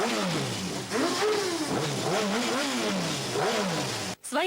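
Chechen bikers' motorcycles ride through the streets of Grozny, their engines loud and close as they rev and rise and fall in pitch in overlapping waves, with a brief cut near the end.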